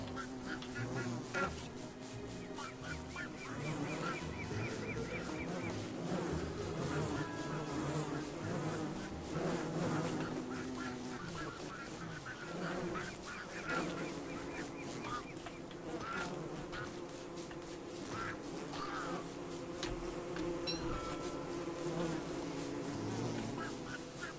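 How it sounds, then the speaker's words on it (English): Buzzing bees in the video game Don't Starve Together, angry and fighting: a continuous layered insect drone with fluctuating pitch runs throughout at moderate level, mixed with background game music and occasional sharper effects. "Yeah, they're definitely fighting bees."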